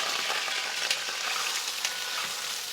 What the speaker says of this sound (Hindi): घी राइस के लिए हमें सबसे पहले चावल को घी में भूनना है।